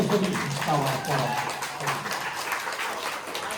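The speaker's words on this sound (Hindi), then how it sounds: "बेटे हाथ खड़े करके जरा एक बार जोर से ताली बजाएंगे" An audience at an Engineers Day celebration of the Engineers Club Dwarka claps in a dense, sustained burst, mixed with voices at the start.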